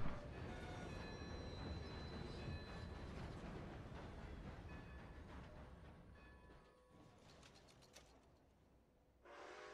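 A steam-era train rolls along in the open-world western game Red Dead Redemption 2, a loud, steady rumble of wheels and carriages with faint rhythmic clacking and rattling, easing off and briefly dropping away near the end; no one speaks.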